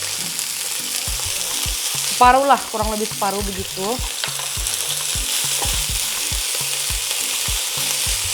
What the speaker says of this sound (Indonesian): Jadi saya goreng-goreng dulu.